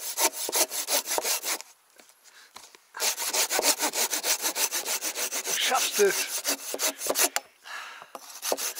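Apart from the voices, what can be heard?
Aldi handsaw sawing wood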